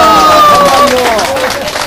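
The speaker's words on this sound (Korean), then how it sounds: "자, 박수!" Crowd clapping and applauding at a traditional Korean hanok ridge-beam raising ceremony, steady close clapping mixed with cheering voices and a sliding tonal call over the top.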